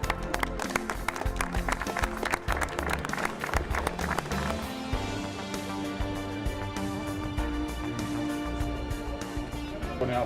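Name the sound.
applause at a street inauguration ceremony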